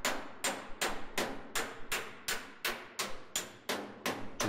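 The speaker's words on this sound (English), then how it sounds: "doing a hammer on dolly" Rapid, even hammer strikes on sheet metal backed by a dolly, flattening a slight crease, about two to three per second, close up with bright clanging tone.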